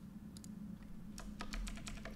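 Bursts of clicky keystrokes on a computer keyboard during a compiler debugging session, sparse at first and then a quicker run of taps over a steady low hum.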